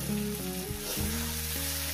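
Steady, close sizzling of onions frying with dried fish in a pan, continuous and fairly loud with a faint tonal hum underneath.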